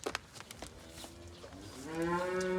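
A cow moos up close, a long low drawn-out call rising out of a quiet outdoor background with light rustling and knocks, at a cattle sale of cows and pregnant heifers.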